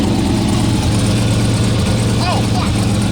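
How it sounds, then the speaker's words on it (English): GMC Sierra truck engine with a new turbo and loose, untightened turbo bolts idling steadily up close, with a low rumbling drone and a faint leaky puffing over it; voices murmur briefly in the background. "I'm kind of hearing an exhaust leak sound."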